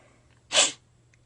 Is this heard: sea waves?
no